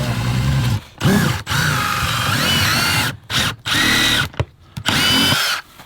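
Long screws driven through foam board insulation on the back wall of an insulated shed with a power drill, loud close whirring bursts in several runs separated by short pauses.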